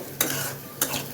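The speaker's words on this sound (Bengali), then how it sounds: "এটাকে ভালো করে কষিয়ে নেব" Masala with ground coriander sautéing in a pan, a steady sizzle broken by two sharp scraping stirs about half a second apart, close and moderately loud with no voices.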